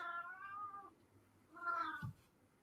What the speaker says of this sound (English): Oh, my cat.